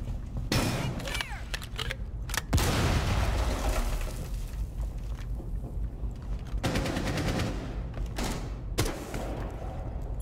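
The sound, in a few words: gunfire shooting into a window in video game Rainbow Six Siege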